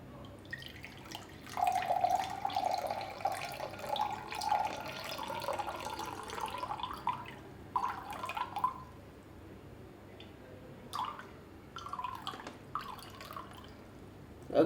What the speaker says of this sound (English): I think I filled over half of this glass